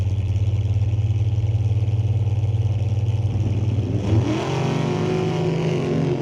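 Drag racing cars at an NHRA Division 6 ET Finals team race at Mission Raceway Park idle loudly on the line, then launch together in a sudden rising roar partway through.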